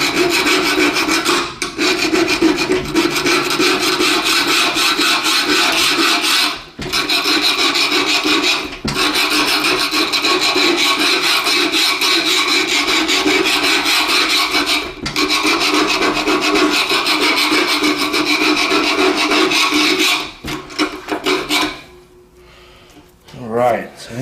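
Old silicone is scraped out of the rope gasket channel on a stove door. Rough, close, continuous rasping strokes run with brief pauses, and someone talks at times.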